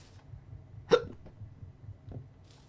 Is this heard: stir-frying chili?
no